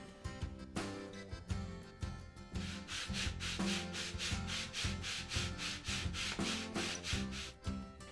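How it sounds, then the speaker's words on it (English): Balsa wood being sanded with a sanding block in brisk, steady back-and-forth strokes, a close, scratchy rasping with brief pauses between passes. "For the longer edges, I prefer to use a perma-grit sander"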